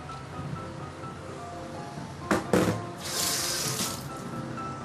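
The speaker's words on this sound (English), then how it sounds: "I don't mind adding a little bit of water to help the blending process" Water splashes and pours into a blender of soaked dried chili for a couple of seconds, followed by a steady running-water hiss, close by with no talking.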